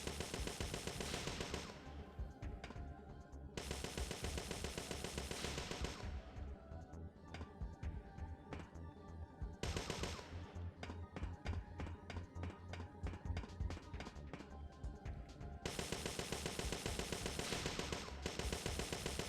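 Rapid bursts of automatic gunfire from the video game Parasite Eve II, aimed at security cameras, come in several long stretches of loud, dense shooting with brief pauses between them.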